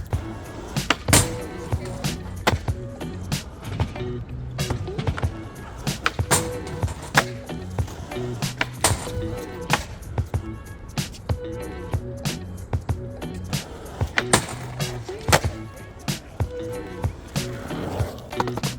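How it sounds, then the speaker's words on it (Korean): Skateboard wheels roll and clack over a manual box at an outdoor skatepark with hard flooring, a continuous rumbling ride broken by repeated sharp pops, slaps and impacts of the board, fairly close. "일단 매뉴얼 박스만 좀 타봤는데 저것만 있어서 충분히 재밌는 것 같아요"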